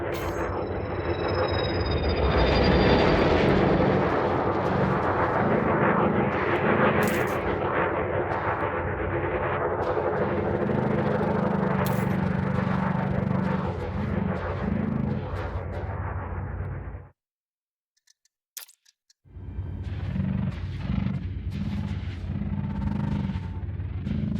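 Spaceship engine in the game Elite Dangerous, a loud continuous roaring thrust with rumbling layers and a few sharp tonal blips, cutting out briefly to near silence before resuming.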